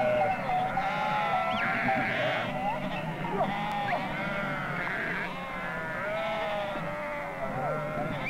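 A large flock of sheep bleats during a nomadic Bakhtiari migration, many overlapping wavering calls layered near and far, with someone speaking over the flock.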